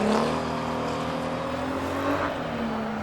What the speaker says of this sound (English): Listen to that S15 running on 5 cylinders now